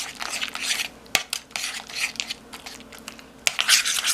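Cream cheese for a clam dip is worked in a bowl with a utensil, giving irregular scraping and clinking sounds with a few sharp knocks against the bowl.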